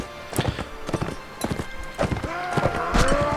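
Rhythmic hoofbeats of a galloping horse in the video game Mount and Blade Warband, a quick, clear clip-clop close by with whinny-like tones over it and no speech.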